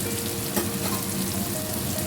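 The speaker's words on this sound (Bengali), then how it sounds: "এটা আমি এখন একটুখানি পেঁয়াজটাকে একটু হালকা বাদামি হতে দেব, আর টমেটোটাও যাতে ভাজা ভাজা হয়ে যায়।" Onion and tomato fry in a pan for dal fry, giving a dense, continuous close sizzle with faint stirring and no voices.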